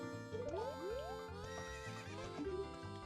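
A horse whinnies in The Legend of Zelda: Ocarina of Time, sounding a rising, squealing neigh twice in quick succession over a backing of game music, with no talking.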